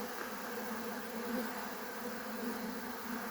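Honeybees buzzing around an open hive during a brood inspection in Nigeria, a dense, steady hum close by and fairly soft, with no talk.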